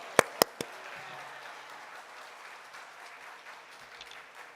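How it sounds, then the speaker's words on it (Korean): A church congregation at a Wednesday worship service applauds to welcome a missionary, steady crowd clapping from a large hall after a few sharp close knocks at the start, fading slightly toward the end. "선교사님 나오실 때 큰 박수로 환영해 주시면 감사하겠습니다."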